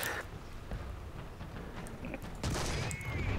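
Tank cannon fire in a War Thunder ground battle involving a PzKpfw IV and a T28: one sudden, loud broadband blast late in the clip that stays raised above a steady rumbling game ambience, with no talking.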